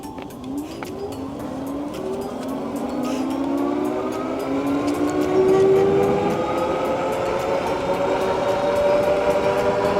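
A VTUVIA SX20 Antelope electric bike motor runs on throttle, with a loud whine that climbs steadily in pitch as the bike accelerates, layered over constant wind and road rumble.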